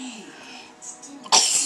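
A child's sneeze bursts out loudly near the end, after a stretch of soft background voices.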